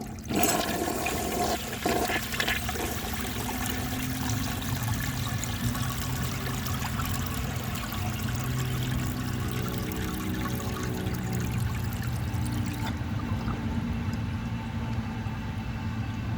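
1957 Gerber Mt Vernon toilet flushing close by: a steady rushing, gurgling swirl of water runs for most of the stretch, then fades to a quieter trickle as the bowl refills near the end.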